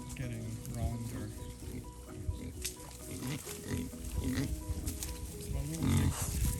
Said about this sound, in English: It's my little pigs.